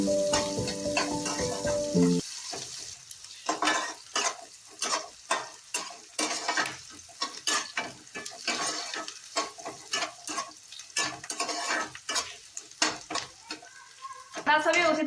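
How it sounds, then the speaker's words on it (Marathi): Onion sautéing in a pan at home, a steady sizzle broken by repeated scraping stirs in an uneven rhythm, close and fairly loud, with brief clatter at the start and no talking. "याच्यातच आपण कांदा ऍड करून घेणार आहे. कांदा व्यवस्थित असं भाजून घ्यायचा."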